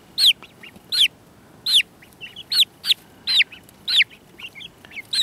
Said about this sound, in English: You're gonna be a famous little bird.